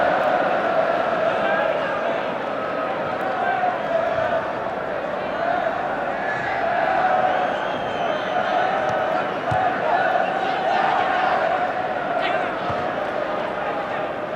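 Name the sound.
football stadium crowd cheering at Wembley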